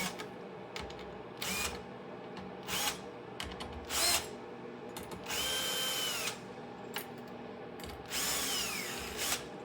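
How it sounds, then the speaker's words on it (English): A power drill whirs in repeated short bursts, spinning up and stopping as screws are driven out of a PS5 Pro during HDMI port repair, with small clicks and handling noises between. "if you're using power tools to do this too, like I am"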